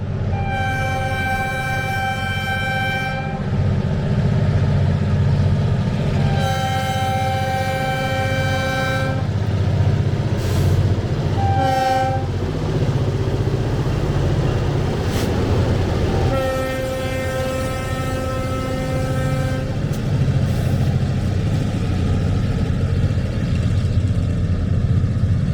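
Freight train locomotives hauling potash fertilizer accelerate along the tracks, a loud continuous diesel rumble with repeated long horn blasts sounding in several separated bursts.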